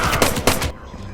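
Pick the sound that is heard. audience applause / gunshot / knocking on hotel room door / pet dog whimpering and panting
gunshot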